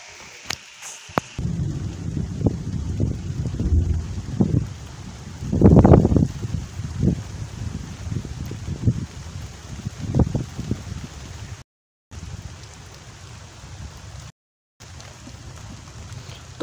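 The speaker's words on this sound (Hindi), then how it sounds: "बहुत ही तेज़ बारिश है।" Heavy rain at a rural spot beside wheat fields, a steady wash of drops on surfaces with rumbling, thunder-like low bursts and a louder swell near the middle. The sound cuts out briefly twice.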